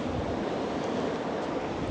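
Rough sea surf surges steadily against the shore at Foros on the Crimean coast, a loud, continuous broadband wash mixed with gusty wind across the microphone, with no talking.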